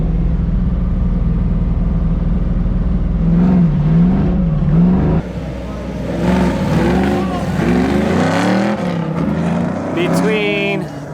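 A Fox Body muscle car's V8 revs and accelerates at an autocross race, engine loud and close with rising and falling pitch sweeps, while a voice talks over it throughout.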